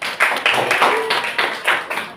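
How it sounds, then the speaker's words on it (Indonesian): Pupils in a classroom clap their hands for a classmate, a close, irregular patter of individual claps in uneven clusters, with a faint voice briefly underneath. "tepuk tangan dong untuk Glenn."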